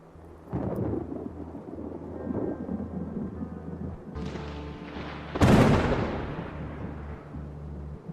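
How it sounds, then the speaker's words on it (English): Crackling thunder at a hillside house: a rumbling roll starts early and builds, then a sharp, loud crack splits the air and fades into a long low rumble over light rain. "The crackling of thunder woke me."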